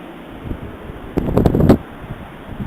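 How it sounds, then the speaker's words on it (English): Strong wind gusting outdoors at night during a whiteout blizzard in 2011, heard as a steady broadband rush with a louder blustery surge in the middle, close to the microphone. "the wind is just like blowing all over the place"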